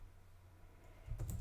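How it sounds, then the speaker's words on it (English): Soft, steady typing on a computer keyboard, a faint run of light clicks over low background hum, growing a little louder near the end. "I've been typing it so many times"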